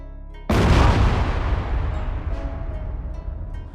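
A Ukrainian tank's gun shot strikes a Russian tank about 20 meters away, one sudden loud boom that bursts into a broad, rumbling explosion and slowly fades over several seconds.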